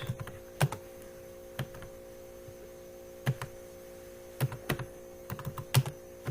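Typing C++ code on a computer keyboard, with scattered clicks and short bursts of keystrokes over a faint steady mains hum, close and fairly quiet, with no talking.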